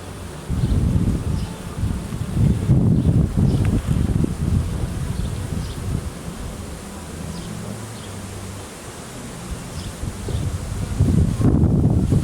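Honey bees hum in a dense, steady drone while a frame is handled during a hive inspection outdoors, with rustling and wind buffeting over the loud, close buzz.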